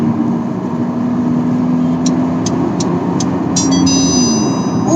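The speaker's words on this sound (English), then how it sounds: "There is also a sporty engine note once you cross say 2500 RPM." Ford Figo automatic hatchback engine running steadily while driving, a constant mid-pitched drone with a faint tonal whine, loud and continuous with no clear revving or shifts.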